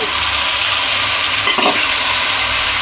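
A spoon scrapes and stirs bitter gourd curry in a clay pot over a steady, loud sizzle, with one sharper scraping stroke midway and no talking.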